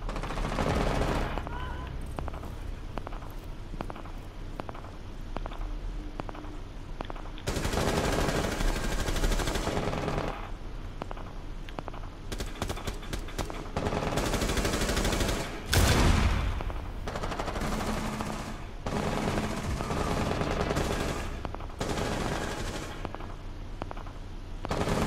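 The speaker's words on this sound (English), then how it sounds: "They're just shooting out the windows." Video game gunfire as players shoot out windows, loud, sustained bursts of rapid automatic shots and scattered single reports over about twenty-five seconds, with short lulls and a heavier blast near the middle.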